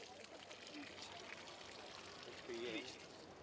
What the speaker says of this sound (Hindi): लो पानी हम भी डाल दें